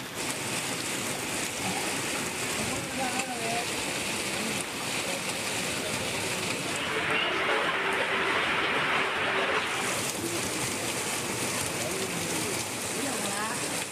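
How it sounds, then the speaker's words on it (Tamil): Heavy rain pouring down in Pattukkottai, Thanjavur district, with rainwater running along the roads: a continuous rushing hiss of falling and flowing water, fairly loud, with faint tonal background sounds mixed in. "தஞ்சை மாவட்டம் பட்டுக்கோட்டையில் சுமார் 45 நிமிடங்கள் மழை வெளுத்து வாங்கியது."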